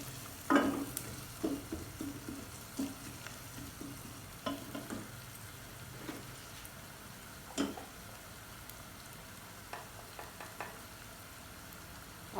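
Potatoes and green beans fry in a pan with ginger, a soft steady sizzle broken by repeated scraping and clinking of a spoon as they are stirred, fairly quiet and close.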